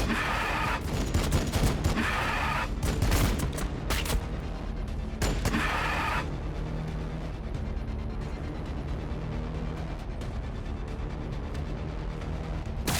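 Loud bursts of gunfire from the Warhammer 40k Battlesector video game, dense volleys and sharp broadband cracks through the first six seconds, then fading to a low rumbling battle ambience that carries on steadily to the end.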